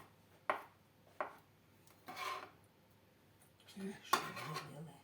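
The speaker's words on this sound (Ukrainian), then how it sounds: "Беремо ось білки двох яєць. Так само отак от ріжемо." A knife slices boiled egg whites on a board for a Chinese cabbage salad, a few separate soft cuts and scraping rubs spaced out over several seconds, quiet and close.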